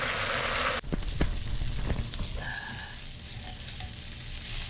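Boneless chicken legs sizzle on a grill for samgyupsal, a loud, steady crackling hiss broken by a brief dip and a few sharp pops.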